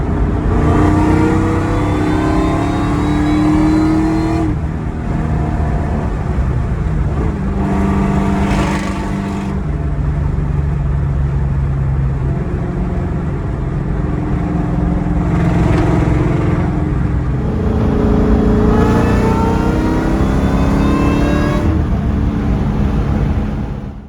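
A supercharged Ford Mustang with dual in-tank fuel pumps accelerates hard down a highway, its engine loud and close as it climbs through the gears in several long rising pulls separated by brief shift breaks.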